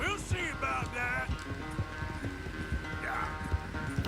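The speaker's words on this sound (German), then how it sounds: "ein Pferd, wieso galoppiert es nicht?" Horse hooves clip-clop at a steady, unhurried walking pace in Red Dead Redemption 2, repeating in an even rhythm beneath game voices and background sounds.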